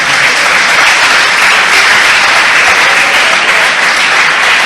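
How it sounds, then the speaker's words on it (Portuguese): A church congregation breaks into loud, sustained applause during a sermon. The clapping is dense and steady throughout, with no voices over it. "pode aplaudir o Senhor"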